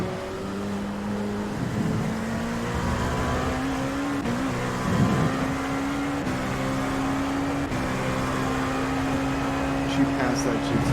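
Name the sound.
Cadillac prototype race car engine in a racing video game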